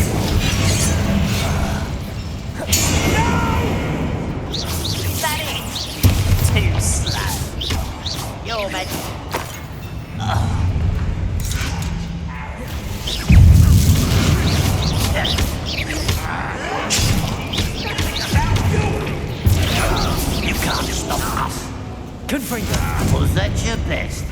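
Spell blasts from Confringo and Incendio go off in Hogwarts Legacy, a run of booms, thuds and crackling bursts mixed with game effects, while a character shouts over them throughout.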